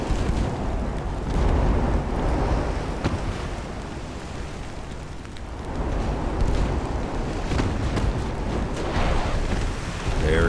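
Naval guns fire in the video game Ultimate Admiral: Dreadnoughts, an 1890s U.S. Navy battle, heard as a continuous loud rumbling roar with repeated heavy booms and no talking.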